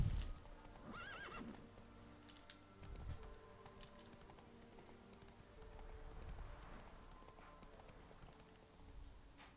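Roach, a horse in The Witcher 3, gives a short high whinny near the start, followed by hoof clip-clops and game ambience, all fairly faint.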